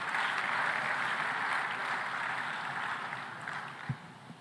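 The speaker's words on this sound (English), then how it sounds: "May I ask you to give a big round of applause to the young people in the room." A conference audience at a food systems summit in Tanzania applauds the young people present, a broad steady roar of clapping that slowly fades, heard from within the hall.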